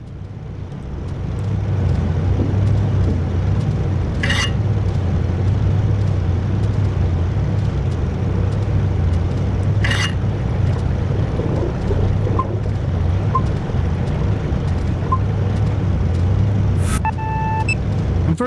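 Malfunctioning ship engines in the Seafarer the Ship game drone as a steady low, heavy rumble with a faint wash of water and wind, punctuated by a few brief sharp clanks.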